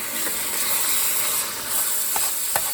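Cabbage with seasoning sizzles steadily in a hot pan, a bright continuous hiss with a few soft scrapes and knocks of a utensil stirring near the end, close and without speech.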